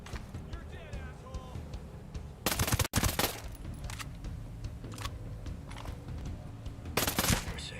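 Gunfire in the video game Ghost Recon Breakpoint: sharp loud bursts of shots cutting through game ambience and a murmur of player chatter, with a couple of distinct shot clusters.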